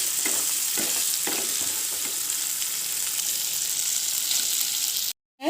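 Chicken chukka stir-fried in a pan gives a steady, close sizzle and frying hiss with soft scraping stirs throughout, ending in a brief dropout.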